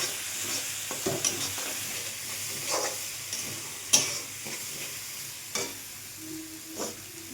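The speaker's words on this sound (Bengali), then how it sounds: "এবার মেথি পাতাটা দিয়ে ভালো করে নাড়াচাড়া করে নেব।" Fenugreek leaves stirred through spiced oil in a pan for a snack-shop chop filling, with a steady crackling sizzle under repeated scraping strokes of a spoon, fairly close, with no voices.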